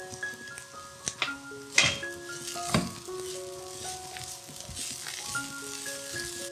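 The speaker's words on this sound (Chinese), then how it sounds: "翻炒均匀。" Vegetarian curry puff filling seasoned with salt, pepper and sugar sizzles softly in a pan as it is stir-fried, with scattered scraping taps of the spatula over a steady low hiss, fairly quiet and without talk.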